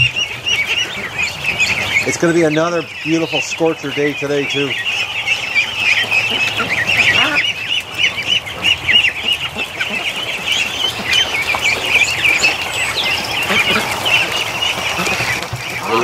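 Muscovy ducks and other farm fowl near water call steadily as a chattering flock, with a burst of louder honking calls in the middle. Someone talks over the birds at one point.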